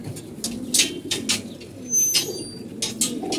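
Pigeons coo repeatedly in a loft during their moulting season, soft throaty calls overlapping with brief chirps and a faint flutter of wings, fairly close and without talk.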